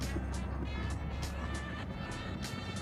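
A Porsche GTS driving on a road in Italy, heard from inside as a steady, fairly quiet low rumble of engine and road noise with faint periodic whooshes.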